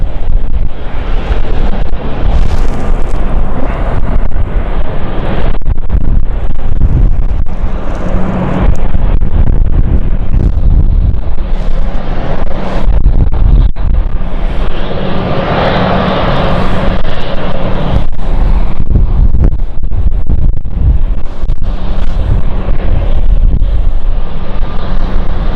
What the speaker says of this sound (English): I do wonder on weather conditions like this when it's cold and windy.